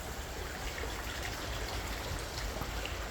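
Excess water trickles and drains steadily out of a freshly watered pot of rooted fig cuttings in a garden, a continuous close splashing flow with no talking.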